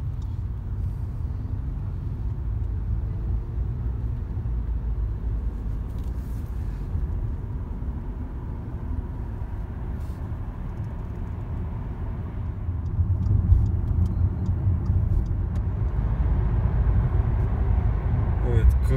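A car accelerating on the road, heard as a low, steady engine rumble from inside that swells a little toward the end, with people talking over it.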